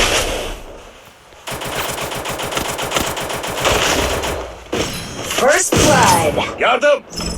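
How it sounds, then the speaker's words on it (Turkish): Rapid automatic gunfire in the Free Fire battle royale mobile game rattles in long loud bursts, joined later by sharper shots and impacts, while players talk excitedly over the action. "Arkadaşlar deli gibi vurdu bize."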